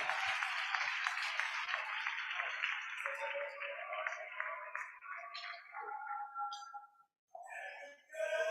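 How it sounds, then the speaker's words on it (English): An audience at a university postgraduate convocation ceremony applauds the convocation lecturer with dense, sustained clapping that thins and fades over several seconds as tonal sounds or voices come in. "Another round of applause for our convocation lecturer."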